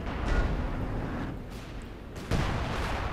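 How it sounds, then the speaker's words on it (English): Artillery fire in Company of Heroes 2 rolls as a series of deep, heavy booms and rumbling blasts, with one sharp thud late on, continuous and loud. "There's so much artillery."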